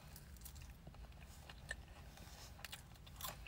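Close, quiet crunching and chewing of Taco Bell nacho fries dipped in nacho cheese sauce, with soft irregular bites and crackles throughout.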